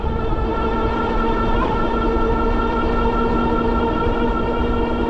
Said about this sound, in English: You can hear the motors working.